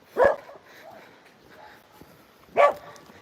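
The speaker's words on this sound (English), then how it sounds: "There's a lot of dogs here actually." Dogs bark in a rural Siberian setting: two loud, sharp barks about two seconds apart, with quieter whimpering or yipping between them and no talk.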